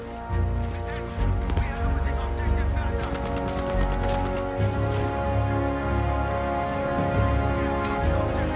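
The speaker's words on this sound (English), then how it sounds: "I hear the shot." Gunfire in Battlefield V, with sharp cracks and a rapid burst of shots among game noise, and someone talking throughout.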